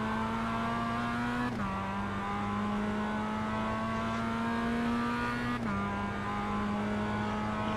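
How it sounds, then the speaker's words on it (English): Race car engine in a sim racing game at Summit Point, a steady high drone that drops in pitch twice as gears shift, loud and continuous with no talk. "There's a faster car approaching."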